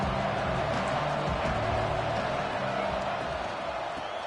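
Stadium crowd roar in an Ole Miss college football video game, a steady loud wash of crowd noise with low rumbling undertones holding for the whole stretch.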